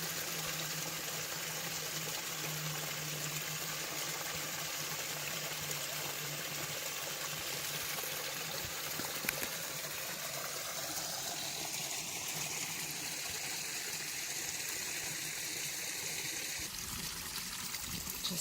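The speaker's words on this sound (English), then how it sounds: "Just love to listen to the water babble and drop and fall" A small waterfall tumbling into a forest creek gives a steady, close, broadband rush of babbling water, unbroken for the whole stretch with no voices.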